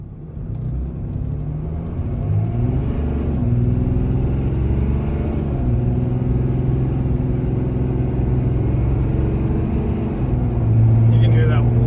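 A vehicle with a newly installed cold air intake takes off hard in a full launch. A loud, close engine rumble builds and swells toward the end while voices talk over it.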